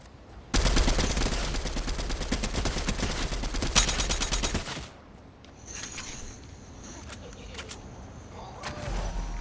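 Rapid automatic gunfire from the video game Fortnite, aimed at a llama, rattles loud and close for about four seconds, followed by quieter clicks and scattered game sounds.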